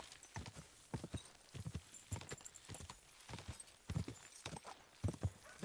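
Steady clip-clop of horse hooves at a walking pace in the video game Kingdom Come: Deliverance 2, fairly close and clear, with no talking over it.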